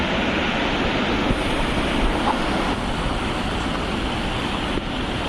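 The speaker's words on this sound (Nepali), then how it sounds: "ल अहिले हामी यहाँ एकदम ठुलो पानी आइरहेको" Heavy flood water rushes down a river during rain, a loud, close, unbroken roar with no voices.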